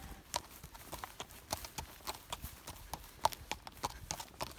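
Horse hooves trot in a steady, even clip-clop rhythm on a hard surface during long-rein training, moderately close, with faint background noise.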